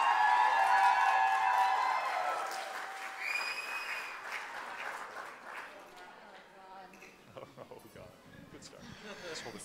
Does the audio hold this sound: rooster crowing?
no